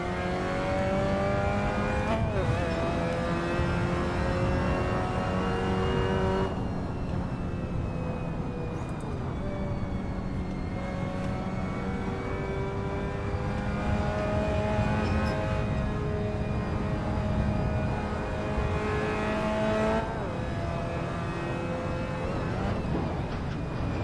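A Mazda MX-5 engine in Burnout Paradise revs steadily with shifting pitch as the tyres are heated, a continuous loud car drone with faint tyre squeal and occasional gear changes.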